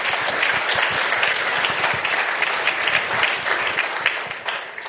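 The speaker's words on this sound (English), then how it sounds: "Let's give them a big round of applause." An audience at an agriculture research event applauds a farmer panel with dense, steady clapping that carries evenly throughout and fades slightly at the end.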